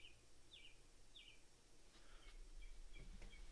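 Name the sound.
thrush singing outside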